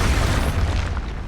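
Expulso spell explosion in Hogwarts Legacy on Xbox Series S, a heavy booming blast with a deep rumbling low end that fills the whole moment and fades slightly at the end.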